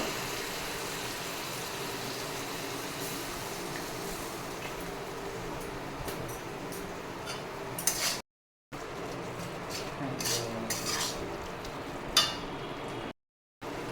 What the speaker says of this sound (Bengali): স্বাদ মতো নুন, হলুদ, সামান্য একটু জল দিয়ে মশলাটা কষিয়ে নেব।